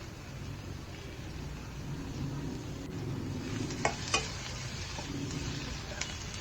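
Ingredients for methi stuffed baingan frying in a pan, with a steady low sizzle and a couple of sharp utensil clinks, close and continuous.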